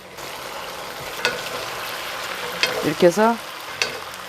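Fried garlic being stirred into braised chicken drumsticks with scallions in a pot, soft scraping and faint sizzling with a few utensil knocks, while a voice speaks briefly near the end.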